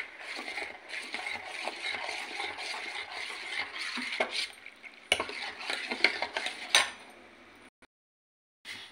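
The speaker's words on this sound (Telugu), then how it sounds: "ఇది ఉండలు లేకుండా కలుపుకోవాలన్నమాట." A spoon stirs a thin flour batter briskly in a metal vessel, making steady scraping, swishing strokes up close for several seconds before stopping into silence.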